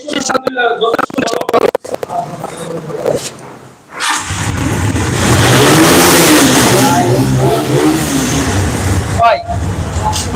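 A used Lifan motorcycle engine is revved hard and held at a loud, sustained roar close by, after a few seconds of someone talking over clicks and brief engine bursts.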